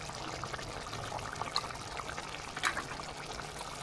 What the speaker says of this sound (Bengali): নামানোর আগে 1 চামচ ওপর থেকে ঘি দিয়ে দিচ্ছি।